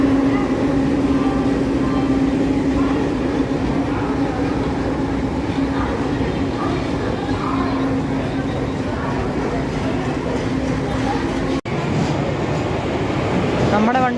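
A train reversing at a railway station on the way to Shoranur Junction, a steady heavy rumble with a sustained low hum and rolling rail noise, continuous and close, briefly cut near the end.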